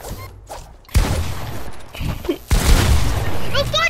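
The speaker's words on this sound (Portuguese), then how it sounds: "Eu atirei! Não, porque a pump não funciona de longe." Pump shotgun blasts in a video game ring out in loud, sharp bursts, two heavy booms about a second and a half apart, each decaying into a gritty tail amid game noise and chatter.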